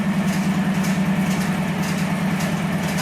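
A Wheel Horse C tractor with a snow thrower runs loud and steady nearby, its engine giving a constant low throbbing drone with no change in speed.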